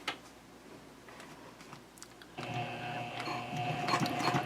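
Sewing machine stitching handbag fabric near a rectangular edge, starting midway with a steady, fairly loud mechanical whirr and rapid needle ticking after a quieter lead-in.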